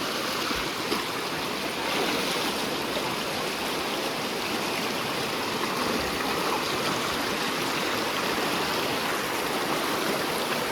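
A fast-flowing river in rainy-season Konkan, its water rushing with a steady, broad roar that stays constant and loud from start to finish, with no voices over it.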